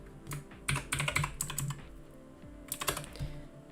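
Rapid clattering keystrokes on a computer keyboard, close and crisp, in two bursts separated by a short pause.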